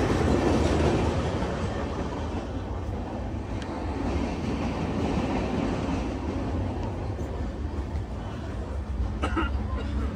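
A Swaraj Express passenger train runs through a tunnel, a dense steady rumble and roar of wheels and carriages heard from inside the coach, continuous and loud for the whole stretch.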